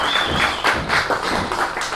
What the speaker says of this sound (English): Everybody give Steph a round of applause.